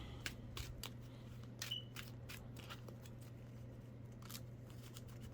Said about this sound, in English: I'm gonna try to shuffle as much as possible